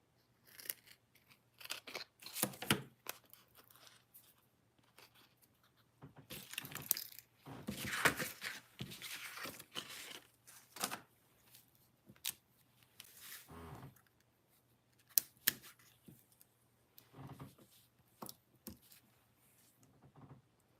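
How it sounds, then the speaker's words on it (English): Scissors cut foam dimensionals for a papercraft card, with many crisp snips and small rustles spread irregularly over about twenty seconds, close and fairly quiet. "let me just cut some dimensionals down"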